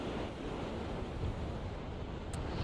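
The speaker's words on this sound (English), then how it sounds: "it is very windy out here along the big lake" Strong wind roaring along the Lake Michigan shore at Grand Haven during high waves, a steady, loud, broadband rush buffeting the microphone with surf mixed in, continuous throughout and without speech.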